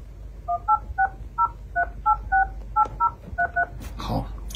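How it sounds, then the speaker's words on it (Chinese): A string of about a dozen short, evenly spaced telephone keypad dialing tones from a Huawei MatePad Pro 13.2 tablet sounds clearly, ending with a brief noisy rustle. "正在拨电话，正在拨号"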